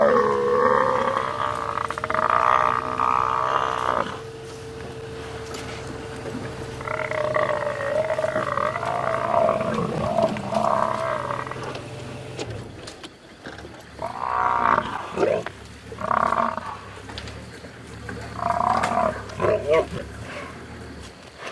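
Lions on a safari drive feeding on a kill, producing deep guttural roars and grunts that come in repeated bursts, loud and close, with rustling between calls and no speech.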